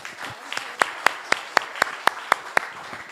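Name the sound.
audience applause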